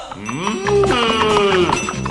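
A cow lows in a long rising and falling moo, close and loud, while a cowbell clinks faintly in the background.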